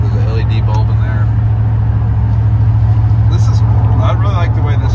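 A 1989 Chevrolet C1500 shortbed pickup with a 5.7 V8 and a 4/6 lowering drop hums along with a constant low engine drone and road noise from inside the cab while someone talks over it.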